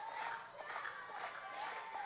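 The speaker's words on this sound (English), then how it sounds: "Level X getting cheered on by this capacity crowd at Davis Arena" A capacity crowd at a wrestling event in Davis Arena cheers and applauds, a faint, distant wash of clapping and shouts in a short burst.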